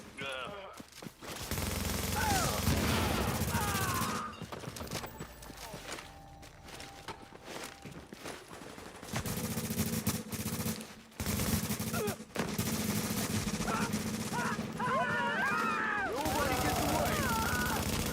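Gunfire from The Division video game, with bursts and rapid automatic shots mixed through a busy game scene, moderately loud, with voices talking over parts of it.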